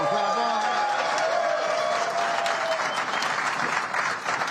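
An audience at a union town hall applauds steadily for several seconds. The dense clapping fades slightly toward the end.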